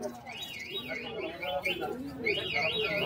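A pair of Makchi racer pigeons makes soft, low cooing, mixed with repeated warbling chirps, at moderate volume.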